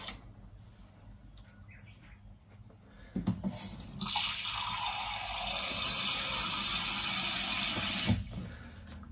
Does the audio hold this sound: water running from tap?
yes